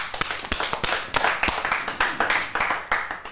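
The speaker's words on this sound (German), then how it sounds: "Ich glaube, das ist ein Applaus wert." Audience at a Swiss stage show breaks into clapping, sharp individual claps landing in a quick, fairly even rhythm close by, with no talking over them.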